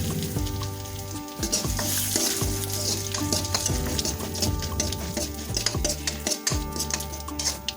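Dried red chilies and bay leaves crackle in hot oil, giving a loud, close sizzle with sharp pops and metal-on-pan clinks from stirring, while steady tonal hums from the kitchen run underneath.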